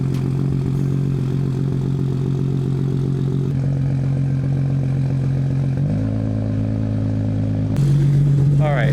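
A 550 hp RB25-powered Nissan 240SX runs on a dyno, its engine droning steadily and loud, with the pitch stepping down partway through before a sharp rise near the end. No one speaks.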